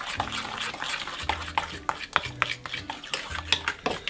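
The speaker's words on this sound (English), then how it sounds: "So we're going to give this a stir to incorporate the ingredients." Char siu marinade ingredients being stirred into a thick paste in a bowl, with close, rhythmic scraping and clinking strokes of a utensil repeating roughly every half second.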